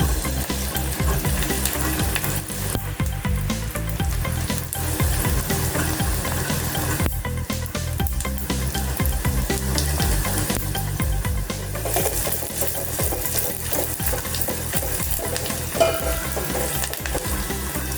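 Dal frying in a pan until reddish-brown, with a steady close sizzle running throughout and frequent scraping, clicking stir strokes over it; continuous and fairly loud, with no talking.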